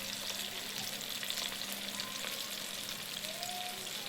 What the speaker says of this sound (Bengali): ঠিক এইভাবে ভেজে নিতে হবে। আর গ্যাসটাকে মিডিয়াম থেকে লোয়ের মধ্যে রাখবেন, হাইয়ে রাখবেন না, তাহলে ভিতরে চিকেনটা সিদ্ধ হবে।